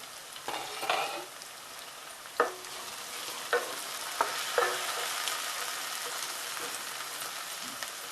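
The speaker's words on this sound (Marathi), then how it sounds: "आता हा कांदा आपण छान असा शिजवून घेऊया." Onion cooking in a covered pan for a Maharashtrian vegetable dish, a soft steady sizzle with a few light clinks and stirring knocks, quiet and close, without talk.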